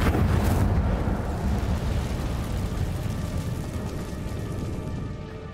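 A fire spell is cast in Hogwarts Legacy, and a loud roaring whoosh like an eruption swells at once. It holds steady as a dense, rumbling burn, then thins slightly over several seconds.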